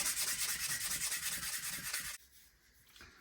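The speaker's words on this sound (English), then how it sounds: "I've sanded this down now" Sandpaper scrubs a Perspex sheet meant for an LED narrowboat lamp in fast, steady back-and-forth strokes for about two seconds, loud and close, then stops abruptly and leaves faint room noise.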